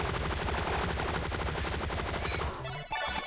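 Rapid continuous gunfire from the top-down shooter game Relic Hunters, loud and dense, a steady stream of shots that briefly cuts out near the end before resuming.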